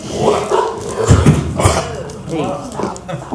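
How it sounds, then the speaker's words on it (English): A visiting dog barks and yips outside a city fire department budget meeting room, a few sharp barks under people talking nearby. "There's a guest dog outside."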